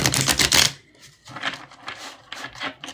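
Oracle cards are handled and drawn up close, with a dense burst of crisp flicking and shuffling followed by softer, scattered rustles and taps.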